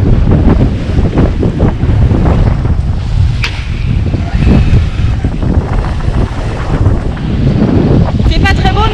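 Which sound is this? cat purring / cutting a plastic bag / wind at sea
wind at sea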